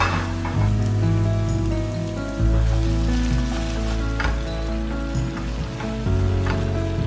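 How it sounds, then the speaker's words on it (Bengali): Spices and yogurt for a chicken spinach gravy fry in a pan, giving a loud, continuous sizzle and crackle with rain-like spatter and occasional stirring, close up and with no voices. "দইটা অ্যাড করার পর কিছুক্ষণ আমি কষিয়ে নিলাম"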